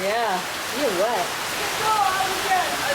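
Heavy rain pours down on a street in Pokhara, Nepal, a steady broadband rush close by, with people talking and calling out over it throughout.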